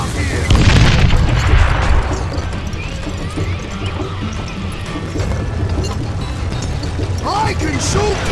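Dynamite explosion in a Red Dead video game: a loud, deep boom with a crashing blast near the start that fades into a rumbling tail, under excited talking.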